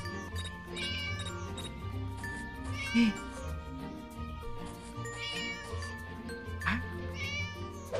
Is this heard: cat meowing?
yes